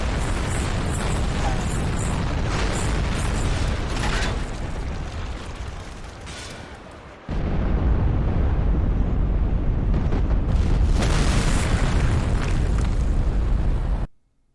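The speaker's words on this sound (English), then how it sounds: "pushing a plunger on a detonator" A detonator plunger is pushed and an explosion follows in the mech combat game Steel Battalion: a long, loud, roaring blast that tapers off, then a second sustained, heavy rumbling wave that cuts off abruptly.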